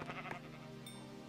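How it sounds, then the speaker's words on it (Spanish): A Minecraft sheep bleats faintly in the blocky game world, a soft wavering cry set against a steady low background hum, with no talking. "Mira, otra oveja."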